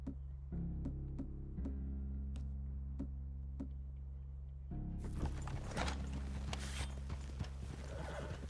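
Horses walk in the Red Dead Redemption 2 video game, their hooves clip-clopping in an irregular rhythm over a low hum, with a louder burst of rustling movement in the second half.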